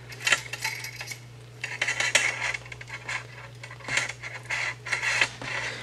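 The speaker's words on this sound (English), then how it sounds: "the leader's scraping against the camera stand, making a horrible noise that you probably hear on camera" A wire fishing leader for a surf-casting shark rig scrapes and rattles against a metal camera stand, producing irregular scratchy metallic bursts over a steady low hum, close by with no talking.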